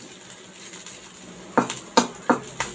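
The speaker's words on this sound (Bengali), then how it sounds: "ভর্তা বানানোর জন্য লাল লাল করে ভেজে নিচ্ছি" Shrimp frying in a pan until reddish for a Bengali shrimp bhorta, a soft steady sizzle broken by four sharp scrapes and clatters of a utensil stirring against the pan, close and alone.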